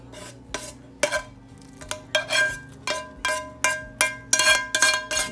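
Metal spoon scraping and clanking against a pan while beef mixture is spooned over frozen tater tots in a crockpot, a steady series of about a dozen sharp, close clinks and scrapes with no talking.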